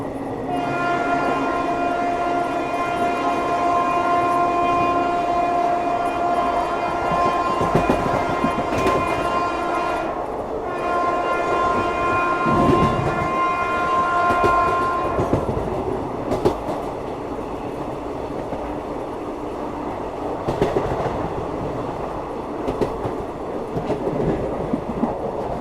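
A New Delhi–Howrah special train runs at speed with a steady rumble and clatter of wheels. A sustained horn sounds for several seconds before the rolling noise carries on alone.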